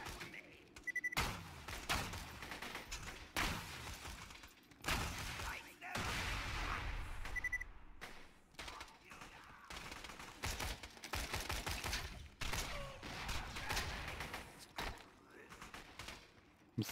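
Rapid bursts of gunfire in Borderlands 2, during a Bandit Circle of Slaughter round, crackle repeatedly across the whole stretch with dense, irregular volleys and short gaps, loud and close with chaotic game effects layered in.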